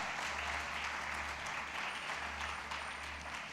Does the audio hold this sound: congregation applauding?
yes